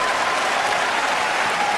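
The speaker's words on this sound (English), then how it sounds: "So he's getting claps though." Steady, dense applause from a comedy club audience fills the whole stretch, loud and close with no voices over it.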